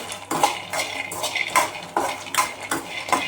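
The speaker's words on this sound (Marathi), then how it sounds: "आता हे शेंगदाणे आहेत ना आपल्याला मग असे भाजून घ्यायचे" Peanuts dry-roasting in a pan are stirred with a metal spoon, giving irregular clinks and rattling scrapes in quick bursts, fairly close and without talk.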